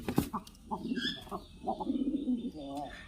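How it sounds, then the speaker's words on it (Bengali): Two young pet pigeons coo softly and close by in a few short throaty bursts, with faint chirps and some brief rustling. "আমার কবুতর নিয়ে এসেছি আপনাদেরকে দেখানোর জন্য"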